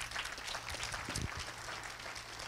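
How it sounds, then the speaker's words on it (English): A church congregation claps hands together during a sermon, a brief, moderately loud burst of mixed applause with a few sharper claps in the middle. "Give God a hand clap"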